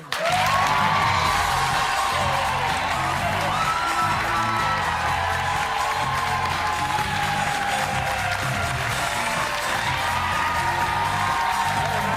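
A studio audience cheers and applauds loudly and steadily as Donald Trump is welcomed onto a talk show, a dense unbroken roar with whoops and a voice faintly calling out beneath it.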